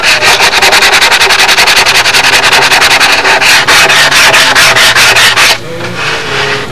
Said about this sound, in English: Just a minimum sanding.